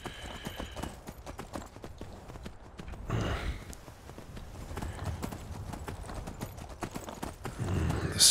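Horses' hooves clip-clop steadily in the video game Skyrim, a close, rhythmic patter of hoofbeats carrying on throughout with rising loudness near the end.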